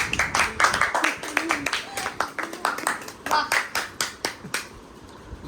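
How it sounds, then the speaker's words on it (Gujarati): A family claps together indoors during a sit-and-stand game at a Ganpati celebration, a burst of quick, uneven hand claps that tapers off, with people talking and a voice in between. "તાળી વગાડો"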